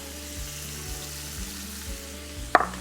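Onions tipped into melted butter in a pan, a soft steady sizzle beneath a constant low background tone, with a sharp brief burst near the end as they hit the hot fat.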